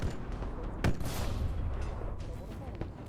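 A Gauss cannon fires in a Halo ODST battle: one sharp, heavy blast with a rumbling tail, set against steady combat noise and faint voices.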